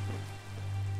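Toxic green rain falls in Minecraft, a steady close hiss of drops on surfaces over a low constant hum, continuous for a second with no voices.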